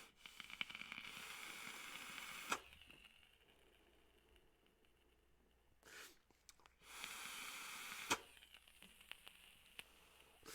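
A vape coil on an asMODus Luna squonk mod sizzles softly in two hissing bursts, each a few seconds long, separated by quiet, with faint clicks at the start of each.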